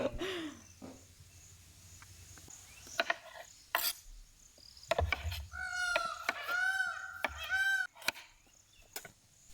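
A loud, harsh macaw squawk repeats in a rough series, with sharp clatters and knocks scattered around it.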